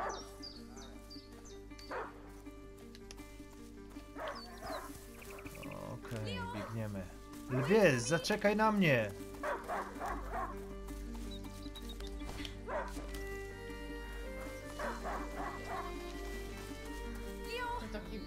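A hunting dog, a pointer, barks in the video game A Plague Tale: Innocence: a short burst of barks in the middle, set among character dialogue and background music.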